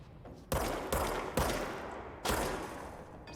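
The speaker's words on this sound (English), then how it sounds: "I know there's a sniper. I can hear you shooting." Sniper gunfire in the Control video game: four sharp, loud shots at uneven intervals, each with a short decaying tail, with no voices over them.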